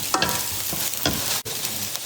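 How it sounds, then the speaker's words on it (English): Green onion stir-fries in a hot wok, giving a soft, steady sizzle broken by several scraping strokes of the spatula. "the Chinese onion, green onion, and stir right? Stir fry."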